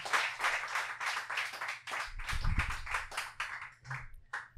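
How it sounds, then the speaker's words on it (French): A studio audience applauds two invited guests on a French-language debate show, a brief burst of scattered, rhythmic clapping that fades over a few seconds. "Je vous demanderai de donner une bonne main d'applaudissement à Julien Daigneault-Boucher et Maxime Pellet"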